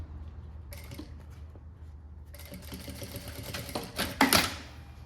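A sewing machine backstitches at the end of a seam on a tote bag with a printed synthetic leather panel, sounding as a quiet hum that builds into a busy stitching whir and ends in a few louder mechanical clacks.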